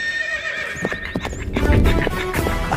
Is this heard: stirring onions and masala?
no